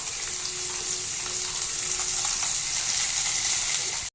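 Steady loud sizzling of onions frying with salt in a pan for cauliflower curry, a constant hiss lasting about four seconds with faint stirring noises.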